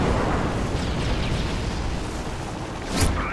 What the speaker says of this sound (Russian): Противник вызвал авиаудар